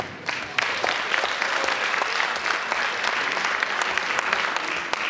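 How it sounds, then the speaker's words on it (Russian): Loud, sustained clapping from a large crowd at a KVN comedy contest final, a thick continuous patter that starts abruptly and keeps going. "еще раз громкие аплодисменты командам"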